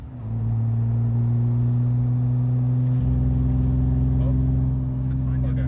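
A Porsche 911 Turbo engine drones steadily while driving, its low tones stepping down after a few seconds as if shifting, with a possible misfire; the engine note runs continuously and fairly loud from start to end.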